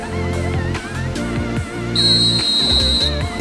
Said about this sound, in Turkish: 53. vuruş hakem düdüğü çalmaktan bıktı